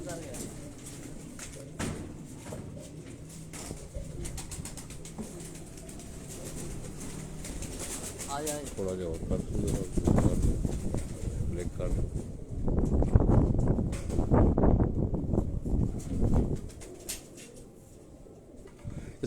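Pigeons coo softly on a rooftop loft amid wind and rustling, with someone talking in Hindi over much of it and a louder stretch of flapping or handling near the middle.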